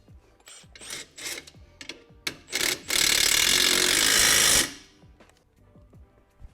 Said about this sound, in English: Now we'll go back over these and make sure they're tight.